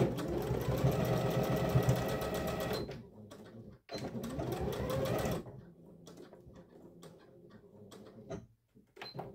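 Sewing machine stitching along the seam of a blouse facing, a fast steady mechanical whir for about three seconds, a pause, then another shorter run, followed by quieter handling clicks and rustles.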